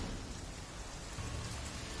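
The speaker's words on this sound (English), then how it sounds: "Looks like rain." Steady rain falls in The Witcher III: Wild Hunt as a dense, even hiss of drops pouring onto the surroundings, continuous and moderately loud.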